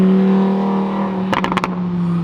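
A Lamborghini V10 engine, starting as a smooth, steady drone that breaks into a quick cluster of four or five sharp, loud revs or pops before settling back to the even hum.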